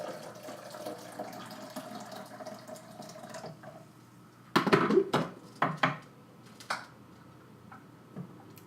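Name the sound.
pouring hot chaga tea over a spoon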